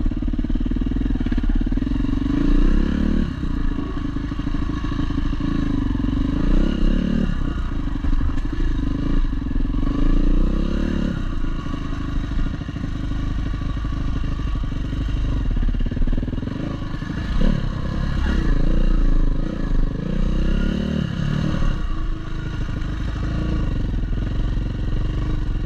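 Yamaha WR400F dirt bike ridden on MX trails, its engine droning loud and close the whole time, revving up and easing off in repeated surges with some clatter and scraping, no talk.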